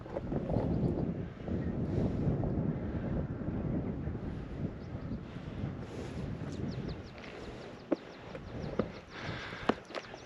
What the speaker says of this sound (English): Yeah, wind getting up. Too windy for the drone